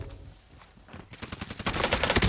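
Rapid automatic gunfire in the Warzone video game, a dense run of sharp repeated shots that starts faint and grows louder and more continuous toward the end, with no talking.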